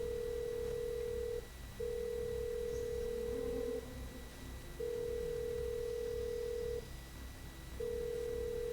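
A telephone rings repeatedly after a number is dialed in the video game Shivers 2, with four evenly spaced long electronic tones separated by short gaps, clear over a faint steady hum.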